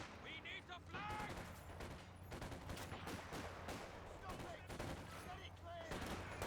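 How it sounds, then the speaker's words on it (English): Infantry gunfire from Company of Heroes 2 rattles in dense, steady bursts of small-arms shots at moderate distance, with speech and battlefield noise mixed underneath. "Infantry firing on us!"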